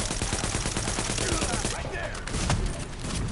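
Rapid bursts of gunfire in a video game, including shotgun blasts, crackle densely and loudly, then thin into scattered shots.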